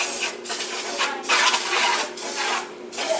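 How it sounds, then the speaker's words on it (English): Four hissing bursts of Crisco aerosol cooking spray into baking pans, close and loud, each a second or so long with brief gaps between. "So I'm going to spray the inside of these pans with,"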